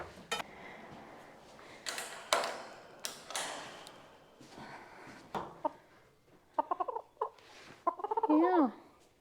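Chickens on a farm cluck and squawk at close range amid scattered taps and knocks, building to a run of louder, wavering calls near the end.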